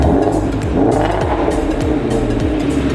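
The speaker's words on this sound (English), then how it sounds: "we're gonna go do some burnouts and donuts real quick." A Shelby GT350 engine roars continuously at high revs during burnouts and donuts, loud and close, with rising and falling pitch as the throttle is worked, tires likely squealing underneath.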